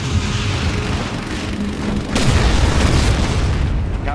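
A cruise missile launching in the real-time strategy game Command & Conquer Rise of the Reds, a dense roaring rumble that swells sharply partway through and holds loud to the end.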